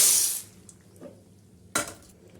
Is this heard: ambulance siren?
no